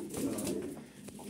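Pigeons cooing at an evening bird stall, a few soft, low throaty coos close by over quiet background noise.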